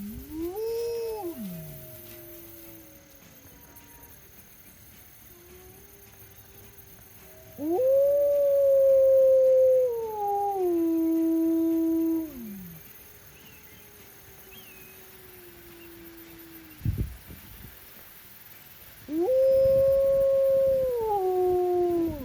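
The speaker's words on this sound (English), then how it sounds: "So again, howling is a form of protection, but it's also a form of location" Wolves howl in long, sliding, drawn-out calls, several separate howls rising and holding with pauses between, loud and clear over quiet background.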